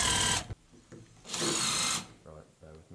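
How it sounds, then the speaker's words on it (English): Electric drill driving 12mm countersunk screws into the edge of bathroom wall panel trim, with two loud whirring bursts separated by quieter handling noise and some brief talk near the end. "get an electric drill and 12mm countersunk screws and drill these into the edge of your trim"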